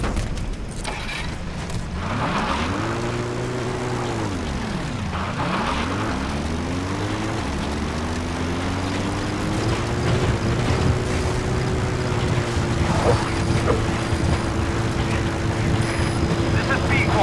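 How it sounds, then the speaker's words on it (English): A support helicopter in the video game Metal Gear Solid V: The Phantom Pain arrives, its loud, steady engine and rotor drone bending up and down in pitch as it approaches, then settling into a sustained hum over faint background game sounds. "Support helicopter Roger."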